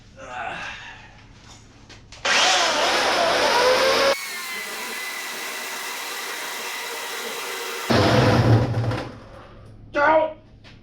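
An electric chainsaw cutting wood whines loudly for a few seconds, pauses, then runs again in short bursts, with some breathing and movement noise between.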